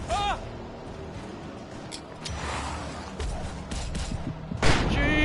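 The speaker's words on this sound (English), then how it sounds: "I'm getting flashbangs out." Flashbang grenades go off in a video game, two sharp bursts at the start and near the end over a steady rumble of gunfire and noise, with voices talking.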